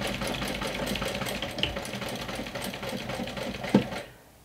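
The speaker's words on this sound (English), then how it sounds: "So I'm folding it 1 inch and I'm gonna sew it down." A sewing machine stitches down a strap folded one inch for a saddle-shaped crossbody bag, running in a fast, steady close whir of needle strokes that stops abruptly near the end, with no talk.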